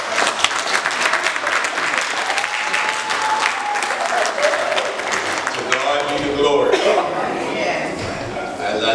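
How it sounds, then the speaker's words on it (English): An audience applauds after a church youth Christmas play, sustained dense clapping filling the room, with cheers and a voice carrying over it as the applause continues and thins toward the end. "Once again, let's give everybody a round of applause."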